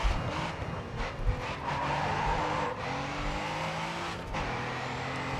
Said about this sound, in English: I'll get the car going straight now.